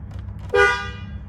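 A single short horn honk from a Ford F-250 pickup truck with a missing horn ground, loud and close, sounding once over a steady low hum and fading out quickly.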